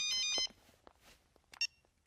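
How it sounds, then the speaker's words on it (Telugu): A telephone ringtone in a film scene, a short electronic tone burst at the start followed by quieter scattered beeps and light background sounds, faint overall. "నీలు, ట్రావెల్స్ నుంచి ఫోన్."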